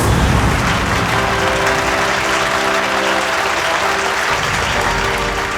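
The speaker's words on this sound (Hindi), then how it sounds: "ऑडियंस इसलिए तालियां बजा रही है" An audience at a magic show applauds in a loud, dense, sustained clatter of clapping that fills the whole stretch without a break.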